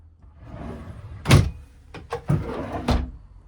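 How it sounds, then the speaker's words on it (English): Drawers in a 2020 Auto-Sleeper Broadway EB motorhome slide open and shut with several close thunks and rattling knocks at an uneven pace, with no talking. "And then you've got 3 big drawers, all the same sort of depth."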